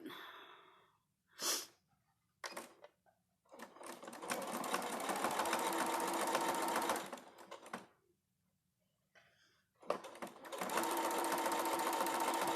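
A sewing machine fitted with a walking foot stitching binding onto a quilt, running in two long whirring bursts separated by short pauses and a few brief starts, close and clear.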